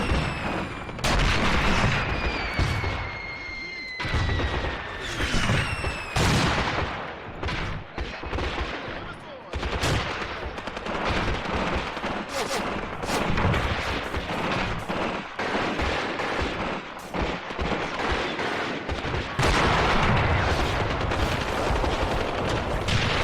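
Mortar and artillery fire in the Graviteam tactical war game, a continuous barrage of dense, overlapping gunshot-like booms and blasts with rapid bursts throughout, loud and unbroken, with no talk.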